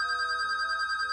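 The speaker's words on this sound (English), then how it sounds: "it's the phone ringing" A telephone rings with a steady, high electronic trill that holds evenly for about a second, clear and alone.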